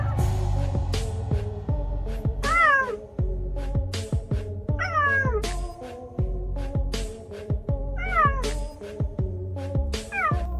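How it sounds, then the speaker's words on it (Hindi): Cheetahs calling with high, cat-like chirps and meows, a repeated series of short sharp yelps and rising squeaky cries over a low steady hum, fairly close and clear, with no talking. "आज हम आपको चीतों की झलक के साथ उनकी आवाज भी सुनाने वाले"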